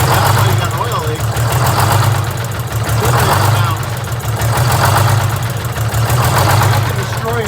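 A Detroit Diesel 6-71 engine in a GM 4104 bus idles loudly and roughly with a missing cylinder, its steady throb pulsing unevenly while a loose bracket rattles and vibrates. Voices talk over the engine noise.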